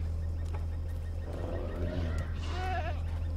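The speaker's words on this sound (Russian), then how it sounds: "Козлики." Goats in the Dreamfall Chapters adventure game give a couple of short, wavering bleats over a steady low hum and quiet background.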